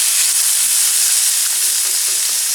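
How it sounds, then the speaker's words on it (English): Peppers seasoned with kosher salt and black pepper, stirred in oil in a skillet for vegetable paella, hiss with a loud, even sizzle throughout, with faint scrapes of stirring beneath it. "Another quick stir."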